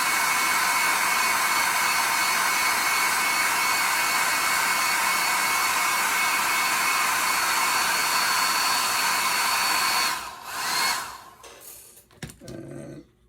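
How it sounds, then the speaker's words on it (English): A hair dryer blows air steadily to dry a watercolor painting of a chickadee, a loud, continuous whooshing hum that cuts off after about ten seconds, followed by brief handling noises. "when you're blowing the air across, you don't want to do it all across the paint or the brushes"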